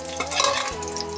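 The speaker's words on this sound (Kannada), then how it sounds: "ಈರುಳ್ಳಿ ಕೆಂಪುಗಾಗಂಗೆ ಹುರ್ಕೋಬೇಕು." Onions frying in a pan until reddish-brown, giving a brief close sizzle with stirring scrapes and no voices.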